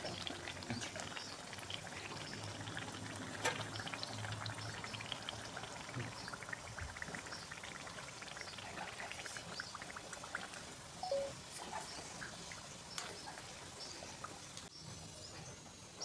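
Mung dal kachoris frying in medium-hot oil in a kadhai give off a dense, steady sizzle and bubbling crackle that runs unbroken for the whole stretch, with no voices.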